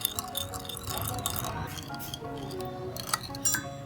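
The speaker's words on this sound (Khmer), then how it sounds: "យើងកូរឲ្យលាយស្ករអស់សិន" A spoon stirs fish sauce dip in a bowl to dissolve the sugar, giving repeated light clinks and a wet swishing throughout, close and steady, with some talking over parts of it.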